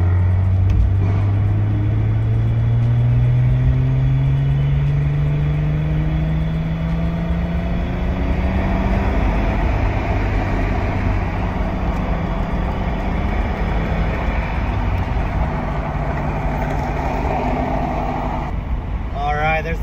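BMW E30 fitted with a roof rack and wind fairing, driving onto the freeway: steady engine and road rumble with a rising engine tone as it speeds up, with talking over it.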